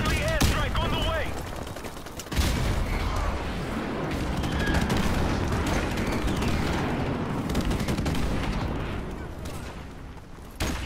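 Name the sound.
airstrike and gunfire in the video game Call of Duty Modern Warfare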